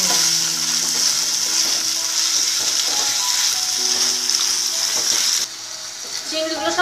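Prawns sizzling in hot oil in a pan, a loud continuous frying hiss with light stirring, the sizzle dropping away sharply near the end.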